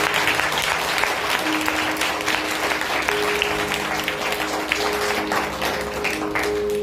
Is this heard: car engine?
no